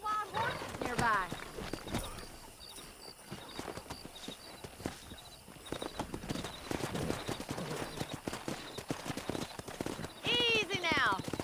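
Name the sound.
wild horses galloping and neighing in the video game Red Dead Redemption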